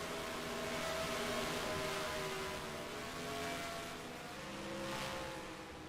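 NASCAR racing trucks at Kansas Speedway give off a steady, loud roar of engines that swells and eases as the pack runs around the track, with no talk over it.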